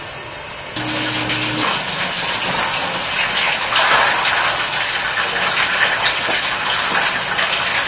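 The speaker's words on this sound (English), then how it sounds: "just flushed a bunch of water up through the pipe to the shower head" After a brief low hum, water suddenly rushes hard through a shower pipe to the shower head, a loud steady gushing spray that continues without pause.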